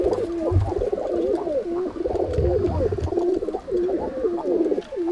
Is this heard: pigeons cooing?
yes